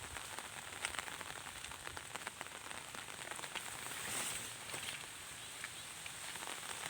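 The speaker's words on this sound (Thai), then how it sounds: "ฝนกระตกอีกแล้วตอนนี้กะ" Steady rain pattering on a surface, a dense, even hiss of drops that continues throughout without pause.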